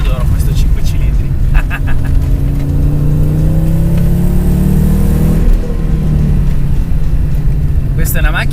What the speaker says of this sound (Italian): E il sound, mamma mia, io adoro questo 5 cilindri.